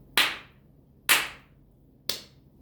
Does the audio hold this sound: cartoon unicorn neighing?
no